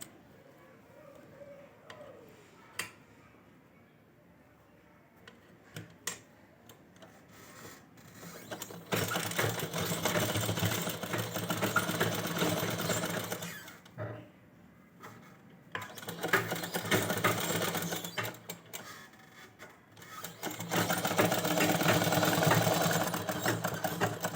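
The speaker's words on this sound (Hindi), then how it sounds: "यहाँ हम यहाँ से स्टार्ट करेंगे सिलाई" Sewing machine stitching a fancy baby gown for a two-year-old girl, running in loud sustained bursts with short pauses between seams, some quiet handling before it starts.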